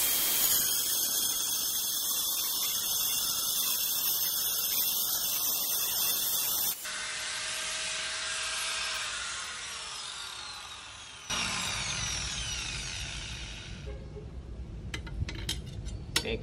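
An angle grinder cuts through steel, a loud sustained high whine and hiss that shifts pitch as the blade bites and lets up, ending in scattered clatter close by.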